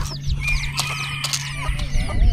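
Goldie, a pet chicken, pecks at feed nearby with quick soft taps and a few low clucks, over a steady hum, while people chat in the background.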